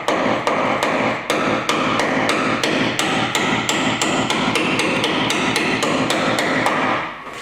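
A hammer tapping a metal part into square on an RV car transporter conversion, a long run of sharp, evenly spaced metallic blows, about three per second, loud and close with no speech.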